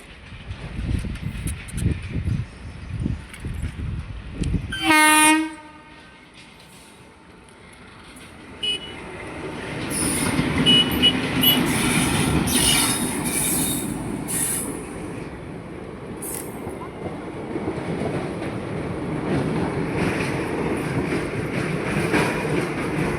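Local train in rural Bihar rolling past a railway crossing, opening with a loud horn blast, then a long steady rumble of wagons and squealing wheels close by, with no talk over it.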